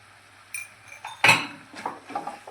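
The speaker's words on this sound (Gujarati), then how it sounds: "અને આને પણ આપણે મિક્સ કરી લેશું આવી રીતે" A spoon stirs spinach with turmeric, red chili and salt in a metal cooking pot, giving a few sharp clinks and scrapes spaced irregularly over a quiet kitchen background.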